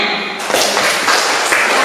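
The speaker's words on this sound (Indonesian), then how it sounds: "Tepuk tangan semuanya" Classroom applause from students during a lesson: dense, continuous clapping from a group, loud and close, with a few louder bursts and no clear voices over it.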